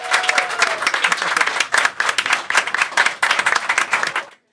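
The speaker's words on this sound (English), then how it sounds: "Give yourselves a round of applause." Lively applause from a live podcast audience, many hands clapping loudly and close, with small surges and dips before stopping abruptly.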